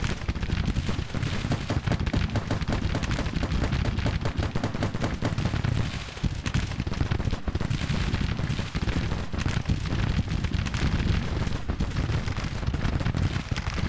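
Machine gun fire in the Civil War strategy game Grand Tactician, dense rapid rattling bursts and volleys continuing nonstop, loud and close, with heavier booms mixed in.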